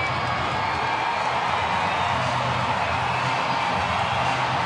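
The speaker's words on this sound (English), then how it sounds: "Big crowd, a good crowd." Steady, dense crowd murmur fills a packed baseball stadium during a White Sox comeback from a 5-1 deficit at a full count, a continuous broad roar without distinct claps or peaks.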